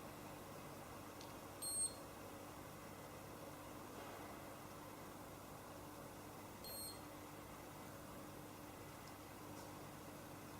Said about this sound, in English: That's the final beep.